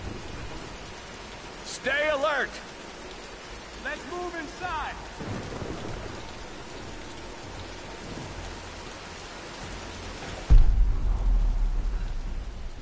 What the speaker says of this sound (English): let's wait out the storm.